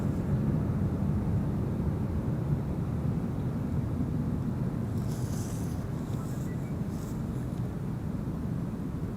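A jet airliner takes off from the Polderbaan runway 36L at Amsterdam Schiphol, heard from a distance as a steady low rumbling roar that holds evenly throughout, with faint wind in the background.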